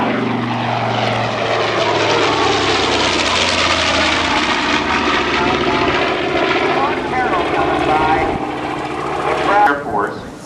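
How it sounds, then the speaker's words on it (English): A B-25 bomber, a twin-engine propeller aircraft, flies past at a Langley Air Force Base air show, its loud droning engines roaring steadily and then fading as it passes. "Here comes the B-25"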